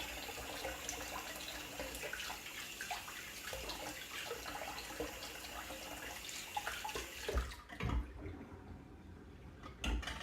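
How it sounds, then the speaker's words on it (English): Tap water runs steadily to rinse a razor during a shave, a continuous close splashing wash that cuts off near the end, followed by a few small knocks and drips. "let me just rinse real quick."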